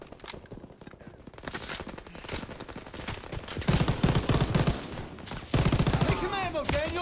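Bursts of rifle and machine-gun fire in Call of Duty WWII, sparse shots at first then growing into dense, loud volleys of rapid fusillade, with shouting voices mixed in among the battle noise.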